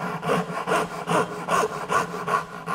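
A Japanese hand saw cuts through wood in steady back-and-forth strokes, about seven rasping pulls in a regular rhythm, close and moderately loud with no talking.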